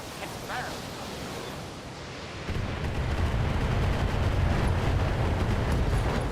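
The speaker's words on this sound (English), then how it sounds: "Ammo explosions." A MechWarrior Online ammo explosion breaks into a deep, sustained roaring rumble that swells halfway through and stays loud, with faint game sounds before it.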